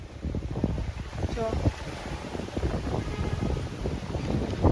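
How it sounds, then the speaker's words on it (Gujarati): Wind gusts outdoors, rumbling and buffeting against the microphone at a moderate level, while a person speaks briefly. "જો કેટલો મસ્ત પવન લાગે છે."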